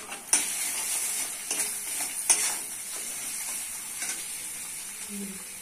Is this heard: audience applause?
no